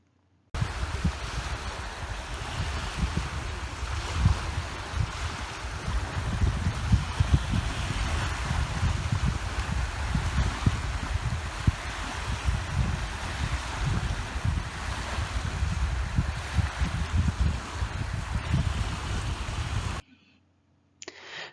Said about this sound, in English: that was the waves off of the Dead Sea